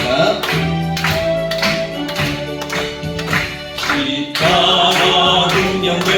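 A church congregation claps in steady rhythm while singing a hymn together during a Wednesday worship service, the regular claps running under the sung melody throughout.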